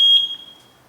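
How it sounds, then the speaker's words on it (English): A EufyCam 3 security camera gives one short, high electronic sync beep that quickly fades, heard alone in a quiet room. "Press the sync button until you hear the beep."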